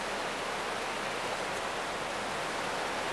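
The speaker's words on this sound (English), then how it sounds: "It's a nice little freshwater stream. You know, I think this waterfall is too high an obstacle for the salmon to make it up." Small freshwater stream tumbling over a waterfall in Alaskan backcountry, a steady, soft, even rush of water with no breaks or voices.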